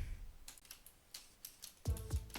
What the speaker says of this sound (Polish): miałam was przeprosić za to, że jakby słyszycie moją klawiaturę